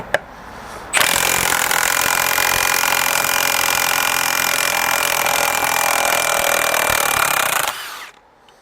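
A Milwaukee M18 cordless power tool on a Forge battery backs a screw out in one loud, steady, whining burst of about seven seconds, starting and stopping abruptly with no talking.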